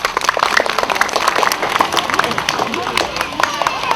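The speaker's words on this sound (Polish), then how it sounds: "Ja bardzo proszę, żeby wszystkie dzieci teraz wzniosły oklaski na cześć święta!" A crowd of children applaud outdoors at a Children's Day picnic held by a library. The clapping is lively and dense, mixed with cheering and a general babble of voices.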